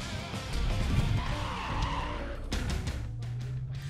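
A Uniroyal Ford Mustang drift car at the Chamrousse track during a French Drift Championship round, its engine roaring and tires squealing in a loud skid, then settling into a steady drone.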